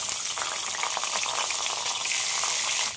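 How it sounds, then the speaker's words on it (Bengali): A salted, turmeric-rubbed hilsa fish head fries in hot mustard oil, giving a loud, dense crackling sizzle close up for about three seconds before it drops away at the very end. "এবার নুন হলুদ মাখিয়ে রাখা মাছের মাথাটা ভেজে নেব"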